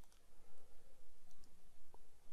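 A computer mouse clicks a couple of times, short and faint, during screen recording and video editing work with Camtasia Studio 9 in a quiet room.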